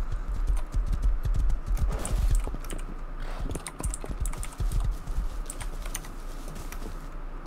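Horse hooves clip-clopping in the Rust survival video game, a steady run of sharp, close hoof knocks at fairly loud level, with no voices.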